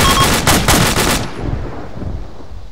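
Loud automatic gunfire from a military video game, a rapid close burst of shots lasting just over a second before cutting off and fading into low rumbling background noise.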